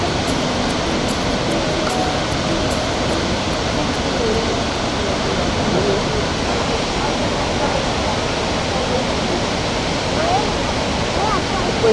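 Pachal waterfall in Kalikot, Nepal, roars as a loud, steady wash of broadband water noise that holds without a break for the whole span, with no voices over it.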